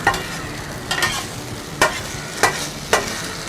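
Chicken 65 being roasted in a bubbling sauce in a hot pan, a loud close sizzle with five sharp scraping stirs at uneven intervals.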